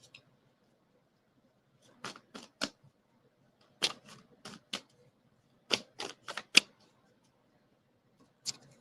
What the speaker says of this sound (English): I'm gonna shuffle all these cards here.